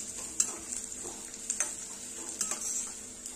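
Onion sautéed in a pan with asafoetida for dahi tadka gives a quiet, steady sizzle. A few light clicks of a spoon on the pan sound close by, and no one speaks.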